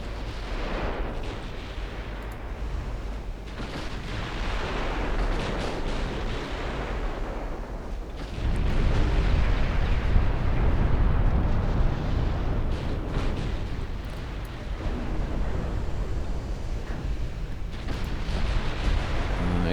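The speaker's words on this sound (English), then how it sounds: "Main guns on those ships" Warship main guns firing in the Ultimate Admiral Dreadnoughts naval game: loud continuous rumbling barrages and booms that swell heavier midway and keep rolling without a break.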